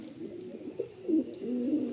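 Pigeons bred for summer flying coo softly in a loft, low, faint repeated murmurs close by with a brief higher squeak, no talk.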